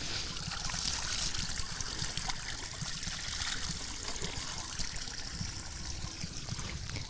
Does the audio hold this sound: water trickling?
yes